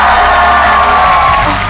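A studio audience at a Korean comedy show cheers and applauds loudly in a brief, dense burst that fills the whole moment.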